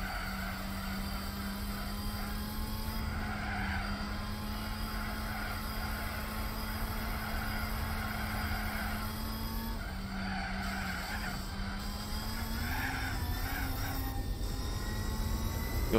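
Toyota Celica TRD racing car in Gran Turismo 4, its engine droning steadily at high revs with tires skidding and squealing through a roundabout, a continuous loud run with no talk.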